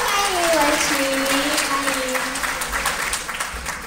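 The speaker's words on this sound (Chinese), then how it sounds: "让我们掌声欢迎文琪" An audience at an induction cooker product launch applauds to welcome a designer onto the stage; sustained clapping fills the space, tapering off toward the end, while a voice carries over it.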